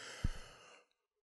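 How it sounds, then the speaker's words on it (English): A tired person yawns close by: one breathy exhale that swells quickly and then fades into silence, with no words. "No, I'm going to yawn actually."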